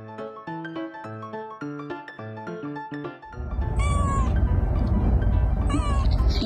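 A house cat meows several times after a stretch of music, the calls rising clearly over a dense, loud background of noise and rustling.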